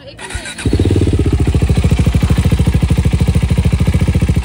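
A KTM Adventure 390 motorcycle starts after being topped up with engine oil. A brief crank catches quickly, and a loud, close single-cylinder idle follows with an even, rapid pulsing thump that holds steady.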